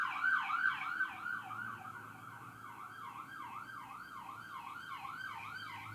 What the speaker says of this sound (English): Two obligatory sirens.